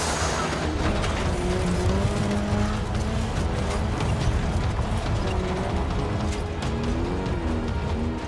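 A small car in a film scene drives hard with tires squealing and skidding, a dense, loud engine roar over rising and falling tonal squeals that continues without a break.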